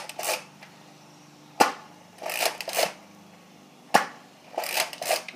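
Zombie Strike Slingfire toy blaster firing, each shot a sharp snap followed by brief rattling and handling noise, several shots spaced a second or two apart, close and fairly loud.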